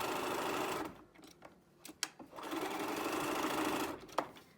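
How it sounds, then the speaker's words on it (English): A sewing machine stitches a quarter-inch seam in a fabric mask, running in steady bursts broken by short pauses and clicks, with no talking. "that's going to get sewn at 1/4 inch"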